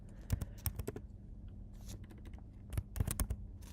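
Bursts of typing on a computer keyboard, quick clusters of key clicks with a short pause between two flurries, close and clear with no talking.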